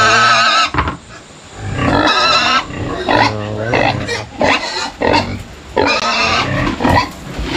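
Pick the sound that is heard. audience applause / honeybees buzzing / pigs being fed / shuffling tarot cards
pigs being fed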